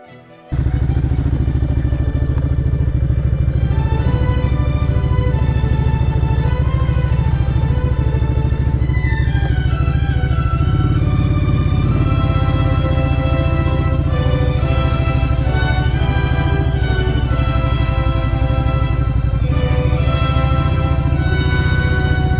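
Off-road motorcycle pulling away from a wild camp site in Ireland, its engine starting abruptly and then running loud and close throughout, with harmonic revs rising and falling and occasional clatter over rough ground.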